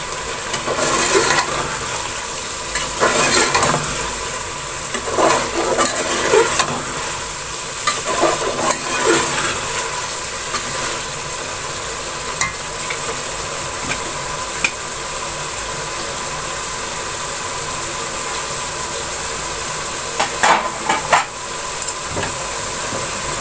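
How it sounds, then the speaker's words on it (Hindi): Aloo chicken, potatoes and chicken in masala, sizzling and frying steadily in a pan over a high flame, with a constant hiss and occasional louder scraping stirs close by. "इसको मैं थोड़ी देर और भून लूंगी।"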